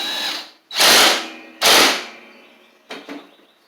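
A power driver backs out a T40 Torx screw on a John Deere S100 riding mower. Two loud, short whirring bursts run close together, then a briefer, weaker burst follows after a pause.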